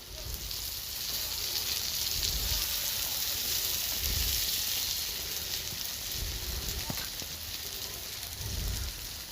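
Green mango pickle for Kashmiri-style achar sizzling steadily in a pan, a continuous close frying hiss with soft scraping thumps of stirring.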